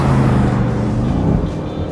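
A steady, loud engine drone from a 2025 Aston Martin Vantage sports car on the move on winding roads, holding a constant low rumble with no talking.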